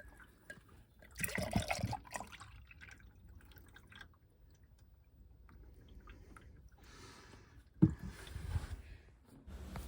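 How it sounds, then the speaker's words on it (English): Water from an overflowing toilet ball valve trickles and drips down the overflow pipe, a faint steady dribble with brief louder splashy bursts in between. "we've got a toilet ball valve which is overflowing. As you can see, it's dripping down the overflow now."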